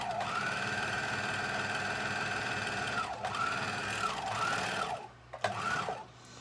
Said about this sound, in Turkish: O dar kenar overlock gerideyken bu şekilde dikiyor.